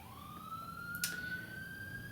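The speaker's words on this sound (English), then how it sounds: "I apologize for the sirens if you hear those." A faint emergency vehicle siren outside wails steadily in the distance, its pitch slowly rising, with a brief soft click partway through.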